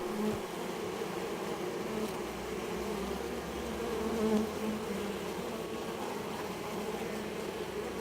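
Steady, dense buzzing of many bees around beehives in Taiwan, continuous and close, with a low droning hum underneath throughout.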